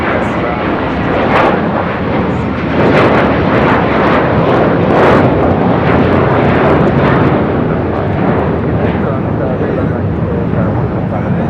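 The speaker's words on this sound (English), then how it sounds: "JetBlue Airways Flight 100 heading to Fort Lauderdale, Florida, an A321." The jet engines of an Airbus A321 airliner roar steadily and loudly at LAX airport, a broad continuous rumble filling the whole stretch with no break.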